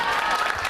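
Brief, dense audience applause for the winner at a 2015 talent show final in Mira, near Venice, heard as a full burst of clapping from a crowd.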